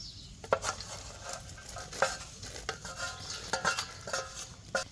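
Wheat kheer with roasted poppy seeds being stirred in a pot, heard as soft, rhythmic scraping and clinking of a spoon against the pan over a faint low sizzle.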